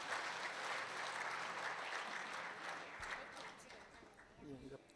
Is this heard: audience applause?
yes